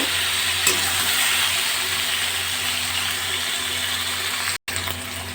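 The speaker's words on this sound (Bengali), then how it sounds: "গ্যাসের ফ্লেমটা বাড়িয়ে সবজিগুলো ভালো করে ভাজা ভাজা করব" Vegetables frying in a pan with salt and turmeric over a high gas flame, giving a loud, steady close sizzle with light stirring scrapes, broken by one brief cut near the end.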